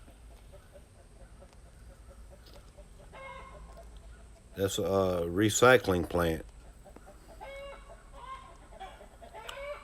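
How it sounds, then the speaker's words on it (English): Chickens in a backyard cluck and fuss, with a rooster-like burst of loud squawking in the middle, while someone talks over the flock throughout. "I'm out near my chickens in the yard and they're making a fuss"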